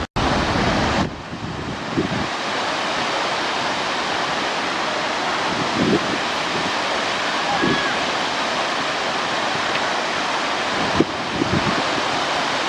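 Rushing water from waterfalls in Iceland, a steady loud broadband roar that fills the whole stretch, with wind buffeting the microphone and a few brief knocks along the way.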